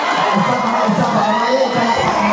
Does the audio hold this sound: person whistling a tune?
no